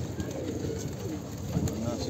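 A pigeon cooing softly in a short, low, repeated call that sits under someone talking close by.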